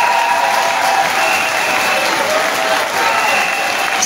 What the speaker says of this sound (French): je vous demande de vous lever et de les applaudir